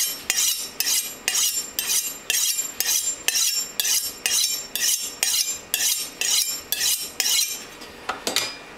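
Chopping knife cutting through frozen chicken for lemon lime chicken, a steady run of sharp repeated knocks and scraping blade strikes, close and fairly loud, with no talking.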